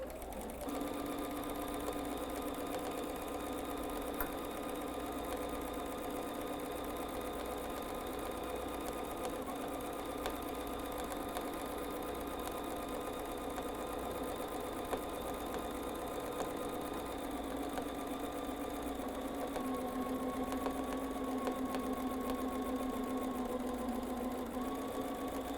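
A sewing machine runs at steady high speed during free-motion quilting of small loops, a continuous close mechanical whir with a rapid needle rhythm, unbroken for the whole stretch.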